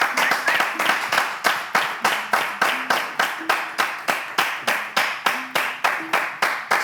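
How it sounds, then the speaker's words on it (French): An audience claps in unison for a performer, a rhythmic, steady beat of sharp hand claps at roughly three per second, loud and close throughout with a faint tone under it. "on applaudit Boris Kett"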